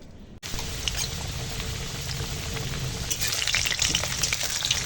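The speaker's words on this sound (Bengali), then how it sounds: "আলুগুলো ভেজে নেব, লাল লাল করে ভাজবো" Cut potatoes frying in hot oil make a loud, continuous sizzle that begins abruptly after a brief silence and grows slightly more crackly and spattering toward the end, heard up close with no talking.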